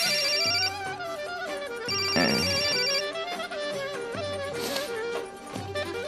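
A telephone rings late at night with a repeating electronic ringtone pattern, loud and close, over a music-like tonal background with no talking.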